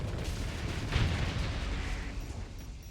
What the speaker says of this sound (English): I think I really like the sound of the Hephaestus. It's got a real chugga chugga chugga chugga sound to it.